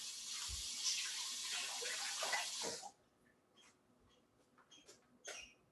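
Peppers being rinsed under a running kitchen tap, a bright steady close splash of water for about three seconds, then it stops, leaving faint handling clicks and small knocks.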